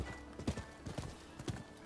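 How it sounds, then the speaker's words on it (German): Horse hooves clip-clopping in the Rise of the Ronin video game, a quick run of soft rhythmic hoofbeats over a busy game background. "wenn ich mein Pferd rufe, dann springe ich direkt drauf"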